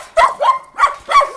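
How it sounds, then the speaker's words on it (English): Dogs bark up close in Mexico, four sharp, loud barks in an uneven rhythm with short gaps, and no talk over them. "so many dogs."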